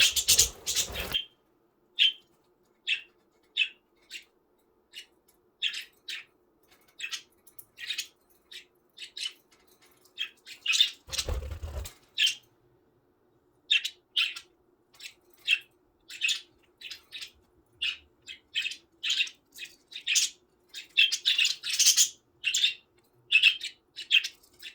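Pet budgies chirp and tweet in short bright calls throughout, scattered then denser toward the end, with two brief loud bursts of wing flapping, close and with no talk.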